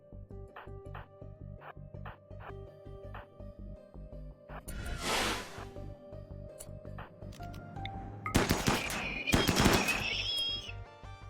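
Combat gunfire in the video game RimWorld, with a few sharp shots and then dense overlapping bursts over a steady, faint background.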